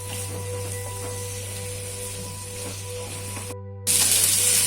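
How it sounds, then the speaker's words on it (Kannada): Chopped onions frying in a pan until browned for a paneer and peas masala, a steady hiss and sizzle running throughout with a brief drop near the end before it resumes louder. "ಇದನ್ನು ನಾವು ಎಷ್ಟು ಕೆಂಪಾಗ್ತದೆ ಅಷ್ಟು ಕೆಂಪಾಗಿ ಹುರ್ಕೊಳ್ಬೇಕು."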